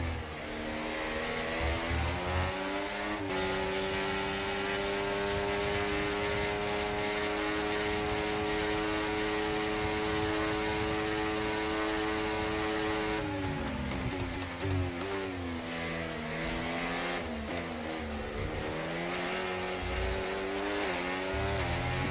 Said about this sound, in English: I don't know why the engine sounds really remind me of F1 2014